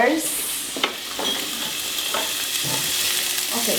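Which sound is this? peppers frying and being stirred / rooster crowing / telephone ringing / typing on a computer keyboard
peppers frying and being stirred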